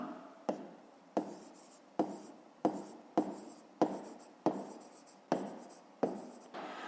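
A pen writing on paper while working a grade 5 math exercise, close scratchy strokes in a regular rhythm, about a dozen sharp onsets each fading out.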